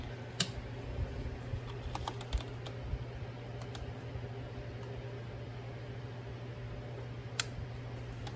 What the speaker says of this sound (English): Okay, got my torque wrench set to 30 Newton meters. So now we'll start the torquing.